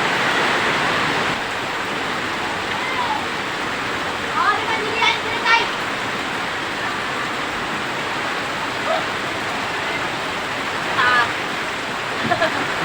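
Floodwater rushes into a house in a steady, loud broadband roar like a torrent, with a few brief voices rising over it.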